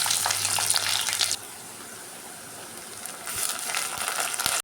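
Cumin seeds, mustard seeds and onions hit hot oil with a bright crackling sizzle that eases to a softer frying hiss, then flares up again toward the end.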